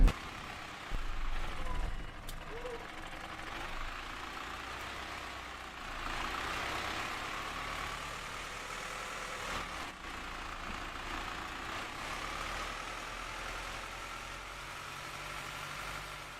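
A city bus in the OMSI 2 driving simulator idles with a quiet, steady rumble and a soft rattle. The sound holds faint and even throughout, with a brief knock near the start.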